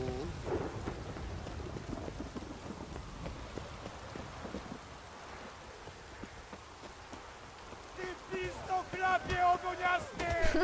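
Thunderstorm in The Witcher 3 game: rolling thunder and rain with a soft ambient rumble, growing louder toward the end, under someone talking.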